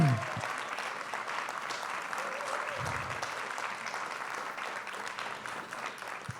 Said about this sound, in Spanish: Yo quiero que ustedes le den un aplauso aquí a Flavia García.